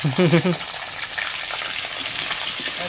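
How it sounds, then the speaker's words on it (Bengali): Potatoes and vegetable stems fry together in a pan, giving a steady, close crackling sizzle throughout, slightly louder in the first half-second, with no talking. "এদিকে আলু আর ডাটাটা ভাজা হচ্ছে হোক"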